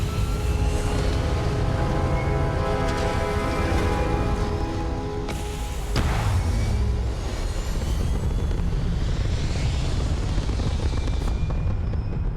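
A spaceship lifting off in Starfield, a loud sustained engine roar with rising tonal whine and a heavy low rumble, punctuated by a sharp burst midway as thrust builds.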